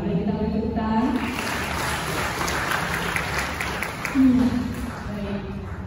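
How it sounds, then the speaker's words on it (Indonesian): An audience at a Catholic church discussion gathering gives a round of applause. The clapping is moderate and continuous for several seconds, with a voice speaking over it. "Boleh kita beri tepuk tangan?"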